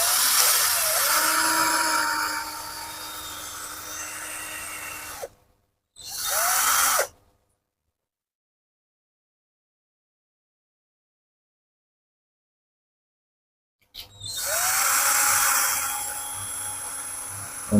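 A budget G11B1 cordless drill fitted with a drill bit whirs at high speed in three separate runs, whining steadily up close, with a long silent gap between the second and third bursts.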